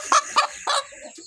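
Farm chickens cluck in three short, close bursts, followed by fainter clucking that trails off.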